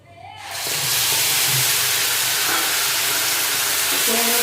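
A paste of ginger, green chilli, garlic and onion hits a hot pan and erupts into loud, steady sizzling and hissing that carries on without a break.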